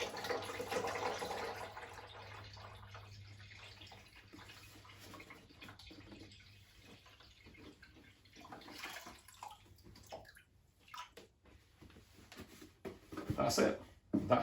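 Water poured from a container into a cocktail slush machine, a faint splashing trickle that comes and goes with louder gurgles near the end, while a person talks.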